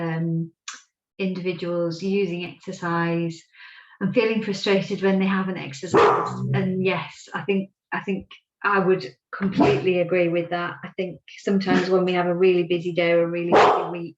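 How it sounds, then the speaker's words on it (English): A pet dog barks in the background of a home while a person keeps talking steadily over it, the barks partly buried under the speech. "sorry, that's my dog barking"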